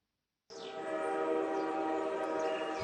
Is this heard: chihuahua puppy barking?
no